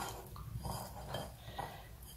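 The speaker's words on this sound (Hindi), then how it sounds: "इसको ऐसे अच्छे से शेक कर लीजिए ताकि सबके ऊपर कोट हो जाए सोया सॉस" Paneer cubes shaken in a bowl with soy sauce give a light, irregular clatter and knock of the bowl, close by and moderately quiet, with no talking.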